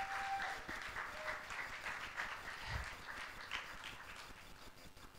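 Applause from a church congregation, faint and somewhat distant clapping that carries on steadily and fades slightly toward the end.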